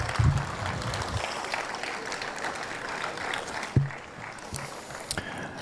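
An indoor audience at a city council meeting applauds an a cappella group, a burst of clapping that tapers off over several seconds, with a few thumps nearby.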